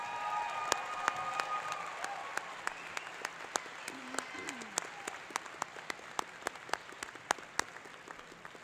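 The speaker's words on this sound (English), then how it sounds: "Would you like to join in one more round of applause for all of our graduates" An audience at a college convocation applauds its graduates, with scattered sharp claps standing out over a soft bed of crowd clapping and faint murmur.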